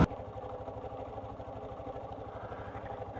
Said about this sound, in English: There's some bloody loud bikes right beside me.